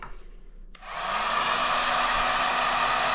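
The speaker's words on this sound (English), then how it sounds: "we're going to take the heat gun" A heat gun starts up and blows hot air in a loud, steady roar, used while building a kayak power cord, running alone after a short quiet start.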